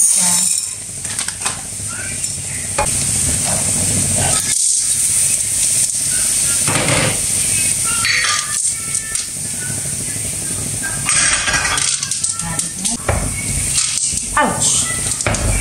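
A newly bought knife for cutting fish is rinsed under running kitchen water, a steady hissing spray lasting throughout, close and loud, with brief clinks of metal and pauses.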